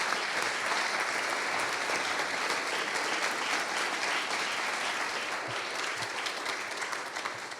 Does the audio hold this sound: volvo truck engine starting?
no